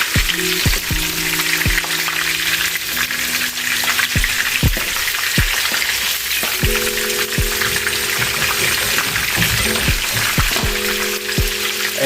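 Oxtails sizzle loudly in a pan with a constant hissing fry, punctuated by sharp knocks and scrapes as the pieces are flipped, close up and without talk.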